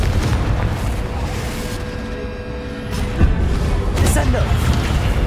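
Confringo blasting curse explosions in the Hogwarts Legacy video game: booming bursts, with a sharper blast near the middle and another shortly after, over dense continuous game noise.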